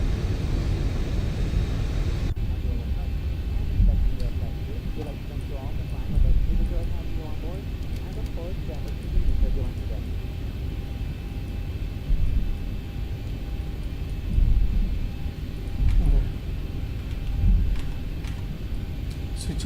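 A Boeing 737-800 in X-Plane 12 rolling off the runway after landing, a steady low engine and rolling rumble that fills the background while someone talks intermittently over it.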